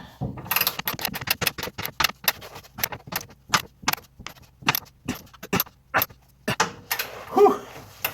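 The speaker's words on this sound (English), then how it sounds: "My torque wrench only goes to 250, but I think at that level, we'll be okay." A torque wrench tightens a bolt toward 250 pound-feet, ratcheting in a long series of sharp, close metallic clicks at an uneven rhythm, with strain building near the end.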